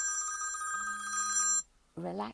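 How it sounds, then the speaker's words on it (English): A telephone rings during a live broadcast, a steady electronic bell tone with a sustained low hum, loud and alone for about a second and a half, then stops before a voice begins talking. "I'm so sorry that phone interrupted the broadcast"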